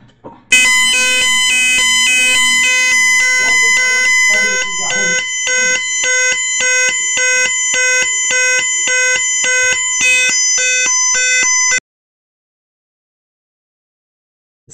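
A loud electronic Tucano police siren pulses in fast, evenly spaced bursts of harsh tones, steady until it stops suddenly, with brief voices near the start.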